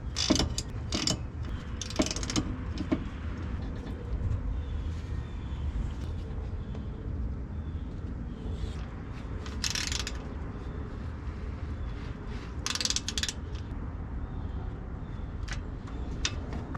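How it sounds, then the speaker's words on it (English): Ratchet tightening the bolts on a Ford GT500 rear differential cover, working through a pattern over a fresh gasket; steady repeated clicking bursts close by over a constant low mechanical hum, with no talking. "We're gonna bolt these down in a pattern so that way the gasket evenly presses onto it."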